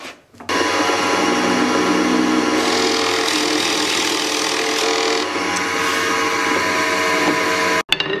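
A power tool drills holes in wood for a handle, a loud continuous whining motor with a routing roar that starts abruptly, runs steadily for about seven seconds, then cuts off.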